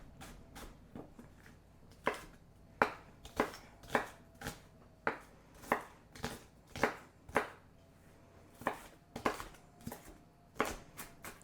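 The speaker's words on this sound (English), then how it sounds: "We're going to kind of chop it up real good." Half of a small onion is chopped on a cutting board with a knife, about twenty sharp, distinct chops in an uneven rhythm, close and fairly quiet, with no talking.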